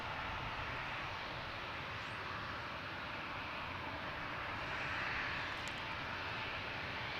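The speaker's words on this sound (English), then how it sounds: "Republic Airways heading to Nashville in E-175." A Republic Airways Embraer E-175 jet departs in a steady, far-off engine roar that holds level throughout, broad and rumbling with a faint rise near the end and no voices.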